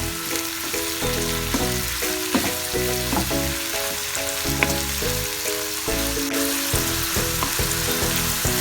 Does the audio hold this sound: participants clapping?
no